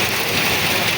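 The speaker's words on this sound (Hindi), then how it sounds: "बारिश बहुत तेज़ हो रही भैया, भीग गया पूरा।" Heavy rain pours down during a thunderstorm, a dense, unbroken hiss that stays loud and close throughout, with no voices.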